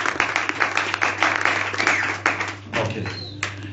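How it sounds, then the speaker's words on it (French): A church congregation claps hands together in a worship service, a dense, steady run of applause with a low hum beneath, fading briefly near the end before picking up again. "Clap your hands again once more."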